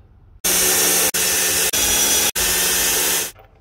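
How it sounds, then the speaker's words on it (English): A power drill drills and countersinks screw holes in wood for a bridge build, a loud, close, continuous whirring broken by three short stops. "What I'm going to do is just drill and countersink some holes."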